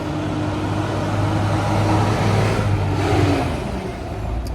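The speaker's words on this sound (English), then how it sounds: "A lot of buses up and down the road." Heavy road vehicles such as buses rumble along a busy road near a popular outdoor stop, a steady low engine drone rising and falling as they pass close by, with no talking.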